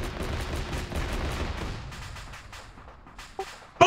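Explosions and gunfire from a military video game mission with artillery strikes: dense, loud rapid bursts of shots and blasts during the first two seconds, thinning to scattered distant reports, then a sharp loud hit at the end.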